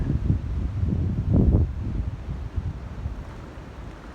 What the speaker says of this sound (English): Wind is scary.